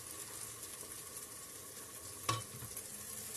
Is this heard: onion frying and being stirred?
yes